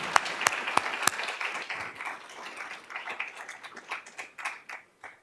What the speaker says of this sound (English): Please welcome with me Dobson Industrial with a round of applause.